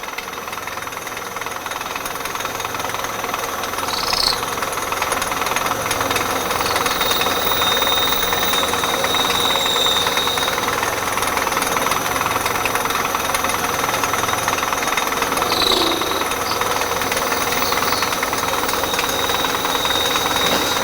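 A cranked cutting tool works steadily through a BMR suspension metal part, giving a loud, continuous, rhythmic grinding and knocking churn that runs the whole time without speech.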